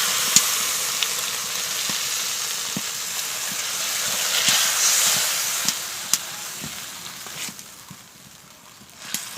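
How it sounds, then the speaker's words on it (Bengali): Steady sizzling hiss of spiced vegetables frying for Bengali sukto right after water is added, with faint scattered clicks and pops continuing throughout, close and fairly loud. "এবার কিন্তু আমি দিয়ে দেব জল।"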